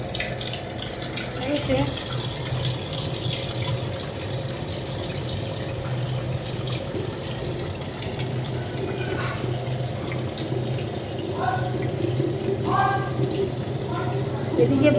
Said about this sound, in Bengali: এখন হাঁড়ি ধুয়ে আমি জল দেবো